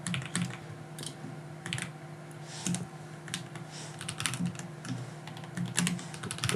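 A video title is typed on a computer keyboard, with steady, close key clatter in irregular bursts and no talking.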